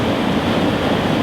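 Steady, dense rush of water at the top of a waterfall, a constant broadband roar with no breaks and nothing else standing out.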